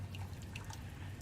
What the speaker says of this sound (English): And there's the differential fluid.